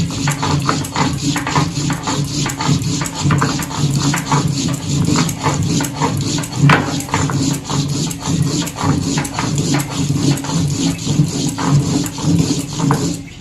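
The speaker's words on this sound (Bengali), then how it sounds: "আলুর রসাই দেওয়ার জন্য গরম মশলা বেটে নিচ্ছি।" Garam masala spices ground by hand on a stone in a village kitchen, a continuous rhythmic scraping and rubbing, loud and close, steady throughout.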